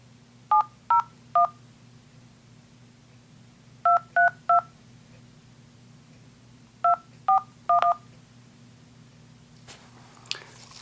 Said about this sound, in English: Number dialed, and now to place the order.